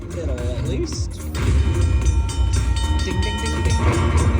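Train sounds from the Railroad Riches slot game bonus: rumbling rail noise and clattering with horn-like tones, loud and continuous, with a person speaking over it.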